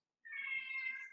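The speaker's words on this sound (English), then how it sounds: "That's my cat." A house cat gives a single clear, sustained meow close by, a steady high-pitched cry of about a second with no other sound around it.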